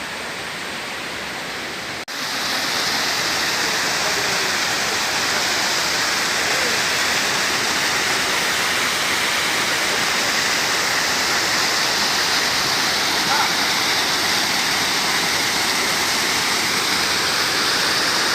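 The Amsfran waterfall in a forested mountain setting roars with loud, steady rushing water. The broadband noise stays constant and close throughout after a brief quieter opening.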